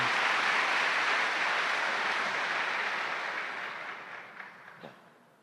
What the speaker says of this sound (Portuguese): Um aplauso para Augusto dos Anjos.